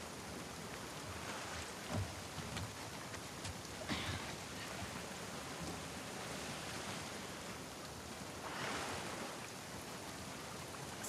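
Rain pours in The Last of Us Part II, a dense, even hiss of water on surfaces throughout, with a few slightly louder splashy swells and no talking.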